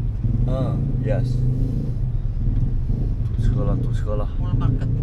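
Cars stuck in a traffic jam in Indonesia give a constant low engine rumble close by, with people talking intermittently over the idling traffic.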